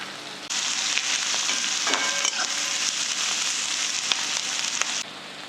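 Steady close sizzle of onion sautéing in a pan for kat vada, a dense bright frying hiss that starts abruptly, holds evenly with small crackles and stirring clicks, then drops back at the end.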